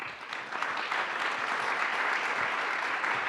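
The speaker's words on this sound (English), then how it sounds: "please give a big round of applause to all our speakers today" Steady, moderately distant applause from a conference audience for panel speakers, a continuous even wash of clapping with no talk over it.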